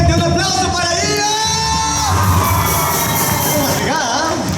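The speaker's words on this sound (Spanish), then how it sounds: "Gente, un aplauso para Diego." Concert audience at a university show cheering and applauding a bassist being introduced, loud whoops and yells over clapping and ongoing band sound, with a voice talking near the end.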